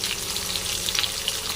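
Tomato pieces go into a pan where capsicum is already frying in oil, giving a steady, close hiss of sizzling that runs unbroken throughout, with faint crackles and pops on top.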